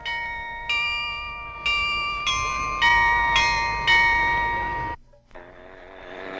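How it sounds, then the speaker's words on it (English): Bells ring out from the Netherlands Pavilion at Expo 67, a series of clear, resonant strikes about once a second, each note sustaining and overlapping before stopping abruptly, followed by faint ambient fairground noise. "Those bells are over there on the Netherlands Pavilion."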